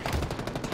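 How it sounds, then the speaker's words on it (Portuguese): Rapid automatic gunfire from a shooter in the Halo Infinite video game during a capture-the-flag match, a dense burst of repeated shots that is loud and close throughout with no talking. "Você tá enchendo ele de tiro."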